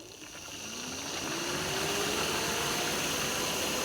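A car engine idles steadily beneath the vehicle, heard from underneath as a broad, continuous mechanical hum with a faint rising whine, loudness building slightly then holding even, with no talk, while bubbles are being bled from the cooling system.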